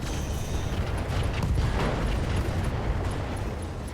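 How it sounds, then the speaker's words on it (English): An LRM ammo explosion inside a mech in the BattleTech game RogueTech, a dense rumbling roar of blast and debris that swells and holds at steady loudness, with no talk over it. "Wow, it survived that, even with an LRM ammo explosion."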